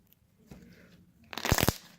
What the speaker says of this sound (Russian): Он очень громко хрустит, как по мне. И хорошо кликает.